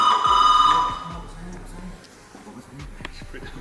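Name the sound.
telephone ringing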